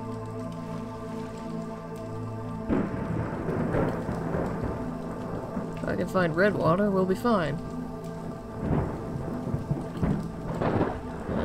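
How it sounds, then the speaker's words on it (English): Rolling thunder and steady rain over a game soundtrack, with a person talking intermittently through the storm. "Can't hear anything over the thunder."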